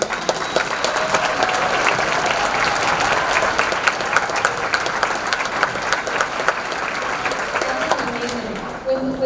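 Dense, sustained clapping fills a hall after a district orchestra concert, a large audience applauding loudly and evenly throughout with faint crowd voices mixed in.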